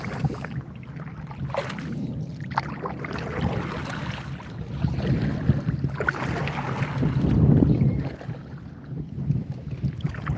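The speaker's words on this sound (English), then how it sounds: "Got like a 10-mile-an-hour wind out here right now." Wind blowing outdoors at about ten miles an hour during a fishing outing on the water buffets the microphone with a steady rumbling roar, swelling louder in gusts and with no voices.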